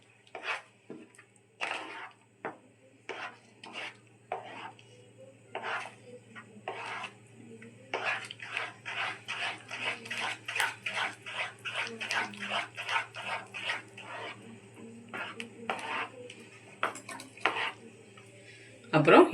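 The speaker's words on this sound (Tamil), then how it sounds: "கிளறிடலாம் நல்லா." A thick Bombay halwa mixture, with lemon juice added, is stirred in a pan, giving a rapid, rhythmic series of short scraping and slapping strokes that grow busier midway, fairly faint overall with occasional speech.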